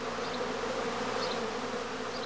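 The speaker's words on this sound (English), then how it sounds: "the humming of the emerging bees is a good indicator of the progress of swarming" Honey bees swarming from a straw skep, a dense steady hum of many wings, even and continuous throughout.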